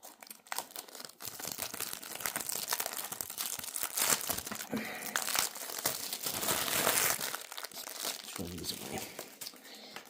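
Scissors snip through the plastic wrapping on a DVD slipcase while the film crinkles and crackles almost nonstop close by, the rustling and tearing steady and fairly quiet.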